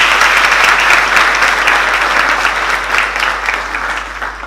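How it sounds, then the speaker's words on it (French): An audience at a master class ceremony applauds, a dense, steady, loud clapping that fills the room and tapers slightly toward the end with no voices over it. "Elles méritent d'être applaudies par tout le monde."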